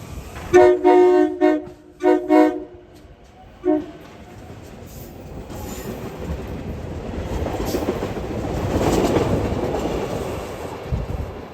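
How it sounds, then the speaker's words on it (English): A train on a Philadelphia branch line sounds its horn in several loud blasts, then rumbles past with a building, steady roar of wheels on track that swells and fades. "And there goes the train on its way to city and the north town."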